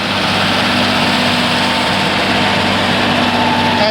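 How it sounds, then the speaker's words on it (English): Claas Challenger tracked tractor engine working a field, a loud continuous droning rumble close by, steady throughout without talk. "We've got a Class Challenger, which is on tracks"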